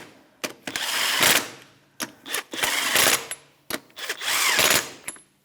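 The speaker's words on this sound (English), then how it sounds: "Take our 21mm socket. We're just going to snug them up." A power tool, likely an impact gun with a 21mm socket, snugs the front wheel lug nuts on a 2013-2018 Toyota RAV4 in a crisscross pattern, giving several loud close bursts of whirring and rattling with short pauses between them.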